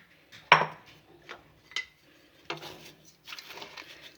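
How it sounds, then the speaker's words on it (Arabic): Cherries and sugar stirred together in a pot for cherry jam, heard as a few scattered clinks and scrapes of a utensil against the cookware with quiet gaps between, close and moderately loud. "غنخلطوا السنيده مع حب الملوك"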